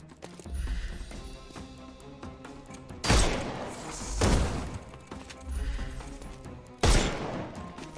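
Gunfire in the video game Sherlock Holmes: Chapter One, heard as several loud, close bursts of shooting that come in clustered volleys separated by short lulls.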